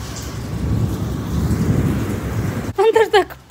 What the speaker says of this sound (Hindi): बहुत जोरों की बारिश आई है आज तो। तूफान भी